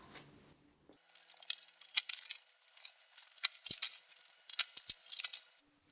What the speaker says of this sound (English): we've done our high-speed unpacking